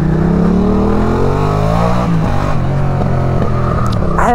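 A Yamaha MT motorcycle engine accelerates up through the gears, its rising revving tone climbing and dropping at each shift, loud and steady throughout with no talking.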